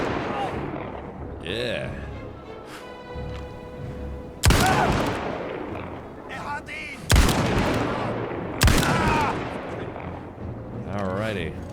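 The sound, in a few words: pistol gunfire in the video game Indiana Jones and the Great Circle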